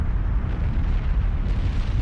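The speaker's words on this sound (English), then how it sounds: "lava and rock begin erupting." Volcanic eruption with lava and rock bursting out, heard as a loud, continuous deep rumbling roar that holds steady throughout with no voices.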